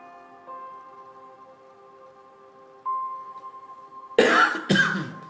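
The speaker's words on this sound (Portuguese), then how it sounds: "Desculpa a tosse" A soft sustained tone hums, then two sharp coughs burst out close by, one right after the other.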